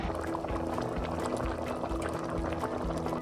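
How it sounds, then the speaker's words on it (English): A pot of Thai red chicken curry with potatoes bubbles at a gentle simmer, giving soft continuous burbling and popping close by with a faint underlying hum. "Bring this to a gentle simmer and let the potato cook for about 10 minutes."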